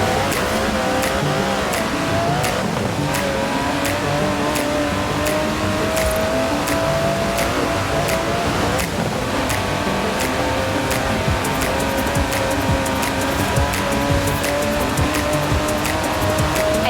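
Aston Martin DB11's 5.2-litre twin-turbo V12 in Forza Horizon 4 drones loudly and continuously, engine pitch rising and falling with gear changes, tire squeal mixed in.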